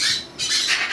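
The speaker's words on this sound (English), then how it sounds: "These are sun conures." Sun conures let out two harsh, shrill squawks in quick succession, loud and close, with no voices alongside.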